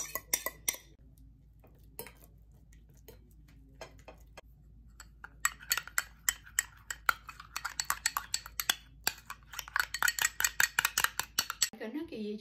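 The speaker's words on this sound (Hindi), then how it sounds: "तो ये तीनों को मिला के फिर इसके फोर्क से मैश करेंगे" A metal fork mashing and mixing face mask ingredients with olive oil in a bowl, a run of light rapid clinks and scrapes growing busier, with occasional faint speech nearby.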